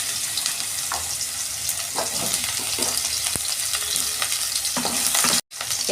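Strips of bitter gourd and potato fry in hot oil with a steady, dense sizzle and occasional stirring scrapes, loud and close throughout with a brief break near the end.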